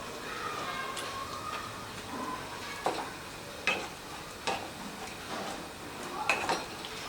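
Egg mixture mashed in a frying pan for street-style egg karishma, with scattered scraping knocks of the utensil against the pan over a low sizzle, several louder taps near the end.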